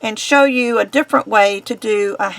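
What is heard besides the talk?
None of the usual background noises is heard.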